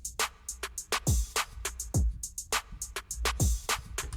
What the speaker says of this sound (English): You could even layer the snare with the clap.